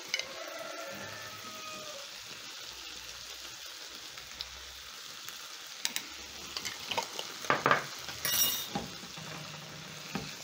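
Green beans with red and green capsicum, seasoned with black pepper and salt, stirred in a sizzling pan; a soft continuous fry with a few louder clattering stirs near the end, no speech.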